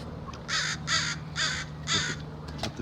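Crows cawing near a harbour on Monterey Bay, four loud harsh caws in a steady rhythm over a low background hum and ambient noise.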